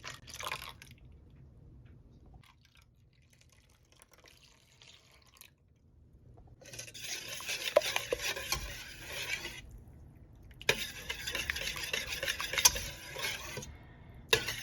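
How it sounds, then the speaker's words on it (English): Breakfast casserole ingredients are stirred together with whole milk in a dish, heard as close wet stirring and sloshing in bursts separated by quieter pauses, with no talking. "now I'm just gonna mix this all together"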